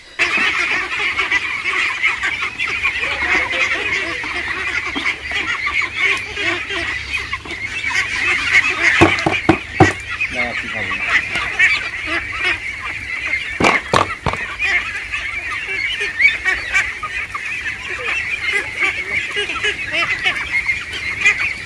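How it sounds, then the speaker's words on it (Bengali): Six hundred Khaki Campbell ducks of a single breed kept on a farm, a continuous dense flock chorus of quacking and honking calls throughout, with a few louder bursts in the middle and no talking. "আপনার যে এই সাড়ে ছয়শো হাঁস এই হাঁস কি সব একই জাতের"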